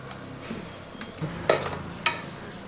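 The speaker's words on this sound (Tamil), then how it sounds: "இதையும் நல்லா கிளறி விட்டுக்கோங்க நல்லா வதங்கணும்" Mint, coriander and green chili paste fries in a pan for mushroom biryani, with a faint, low sizzle and a few sharp scraping stirs of a utensil, near and quiet, with no talk.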